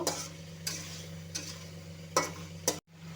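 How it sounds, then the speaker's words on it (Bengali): Soya chunks and potatoes being stirred and sautéed in a pan, with a soft background sizzle and several scraping strokes of a spoon at irregular intervals, quiet and without voices. "এই সয়াবিনগুলো এখন দিয়ে দেব। ভালো করে কষিয়ে নেব।"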